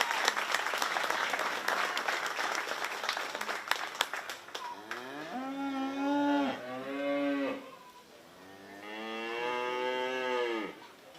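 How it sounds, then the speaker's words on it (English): Crowd at a county fair 4H beef show claps briskly for the kids for several seconds, then cattle low loudly in long, drawn-out moos close by. "Let's give these kids a round of applause."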